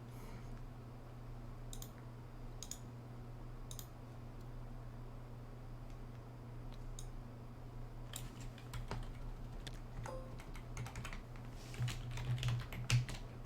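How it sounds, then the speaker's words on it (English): Quiet, steady typing on a computer keyboard, with scattered key clicks over a low hum before the keystrokes grow busier and louder near the end. "We're going to go ahead and type up the rebel list."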